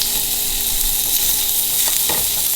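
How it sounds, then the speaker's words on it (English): Sausages sizzle steadily in a hot pan as they are flipped over, charred on one side, giving a continuous close frying hiss with a couple of soft clatters near the end. "Now we're just gonna flip our sausages over."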